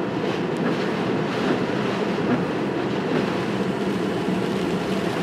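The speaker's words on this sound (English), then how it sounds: "I'm fighting some really heavy wind gusts right now." Strong, steady Hurricane Irene wind gusts buffeting a microphone, a dense continuous roar with slight surges throughout and no voices.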